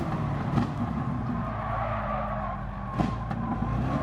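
A race car spins out on track in Gran Turismo Sport, tires skidding and squealing over a loud engine drone, with sharp bursts of screech near the start and again toward the end.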